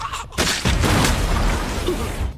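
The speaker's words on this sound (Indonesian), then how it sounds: "terdengarlah suara ledakan dari Delta, sebuah tanda yang telah memulai penyerangan" A loud explosion sound effect from an anime fight scene: a sharp blast onset followed by a sustained, rumbling roar that holds for about two seconds before easing off.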